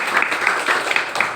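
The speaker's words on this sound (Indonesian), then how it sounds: "Beri aplaus." Audience applause after a classroom teaching presentation, a steady patter of many hands clapping for over a second with no voices.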